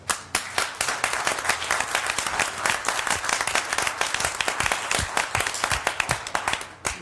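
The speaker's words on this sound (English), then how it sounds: "And that warrants a hand clap." Applause at a city commission meeting honoring a choir's competition win, a room of people clapping steadily for several seconds with distinct individual claps standing out, moderately close and with no talk over it.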